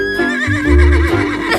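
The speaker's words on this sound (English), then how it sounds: "This is my horse, Casper." A brown horse whinnies loudly and close by, a single shrill neigh that rises and wavers before fading, with no talk over it.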